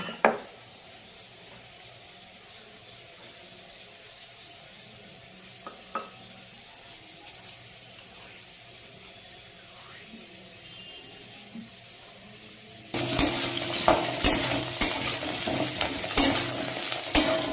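Potatoes frying in a pan while being stirred, quiet and steady at first, then a loud, dense sizzle with scraping and clatter from the stirring for the last few seconds.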